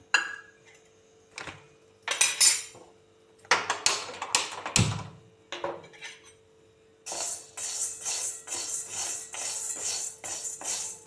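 Sago pearls (sabudana) being roasted in a kadhai give a steady scraping rustle, following earlier scattered taps and clinks of a spoon against the pan.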